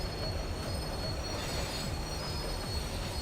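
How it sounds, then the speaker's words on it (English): A tram in the video game Max Payne 3 slows down, its wheels squealing steadily against the rails over a continuous low rumble, loud and close with no voices. "The tram was slowing down, and I'd only just gotten on board."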